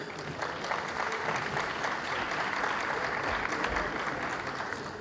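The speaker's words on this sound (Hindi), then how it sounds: "तालियों की गड़गड़ाहट जो है बनी रहे तो ज्यादा वातावरण को सुखद करती है" Continuous applause from a large auditorium crowd at an album launch and award ceremony, even and sustained clapping with no voices standing out.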